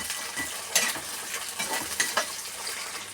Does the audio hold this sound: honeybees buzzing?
no